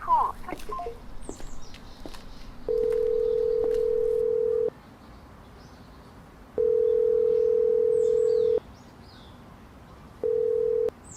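Steady single-pitch telephone tone from a call that fails to connect, sounding in three long sustained beeps separated by gaps, clear and moderately loud over faint background noise.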